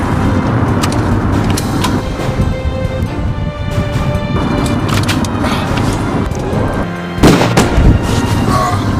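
Gunfire from a driving video game, rapid booming shots crackling over a steady vehicle engine drone, with a louder burst of blasts near the end; voices are faintly present.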